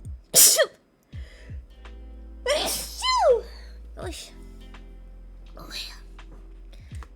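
One sharp, close sneeze at the start, followed by soft murmured talk and quiet breathy vocal sounds against a low steady hum.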